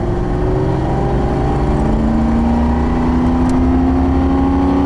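Loud, steady engine drone from a 1988 Ford Grand Marquis under acceleration, heard from inside the car with a smooth, gradually rising pitch and no talking.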